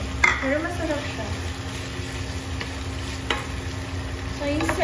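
Chicken frying in a pan for a bitter gourd sauté, a steady close sizzle with a few scraping stirs running through the whole stretch and a faint voice briefly underneath.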